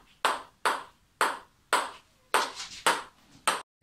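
A table tennis ball struck back and forth with a book gives seven crisp, evenly spaced taps, each fading quickly into quiet, close and fairly clear.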